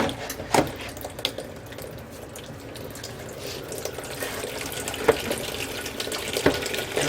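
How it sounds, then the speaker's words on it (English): Tap water runs steadily to give dirty mushrooms a second soak before pickling, a continuous close rush with a few louder splashes and no talking. "I think I'm going to go ahead and give them another soak"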